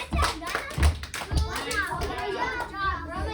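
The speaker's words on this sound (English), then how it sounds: "Let's give them a round of applause." A round of applause from a small group that includes children: scattered hand claps and taps, fairly close, mixed with children's voices and chatter.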